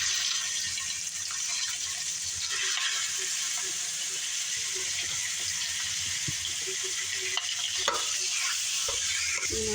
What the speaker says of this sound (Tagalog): ihulog natin yung pork.